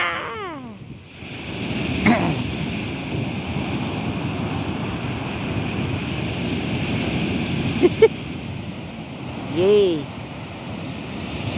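Ocean waves roll onto San Sebastian beach at Barceloneta, Barcelona, in a steady surf wash with wind buffeting the microphone, while excited voices shout and chatter over it and a child squeals near the end.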